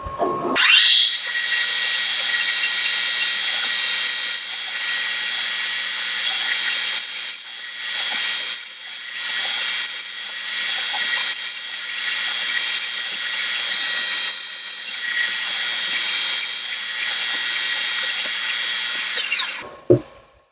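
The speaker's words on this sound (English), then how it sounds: "I'm not sure if this drill will break through or the other one" A power drill whines steadily as it bores into wood for about twenty seconds, loud and close, with slight dips in pitch as the bit bites, then stops abruptly.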